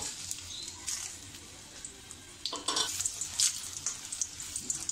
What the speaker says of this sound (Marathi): हे आपण जरा मंद गॅसवरच आपल्याला परतून घ्यायची आहे.